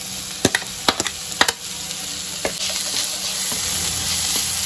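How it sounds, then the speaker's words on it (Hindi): Spices and green chili being stirred in a pan, with a few sharp scraping knocks from the spoon at first, then a steady close sizzle of frying that continues on its own. "इन सबको मिक्स करके हल्का सा भून लूंगी"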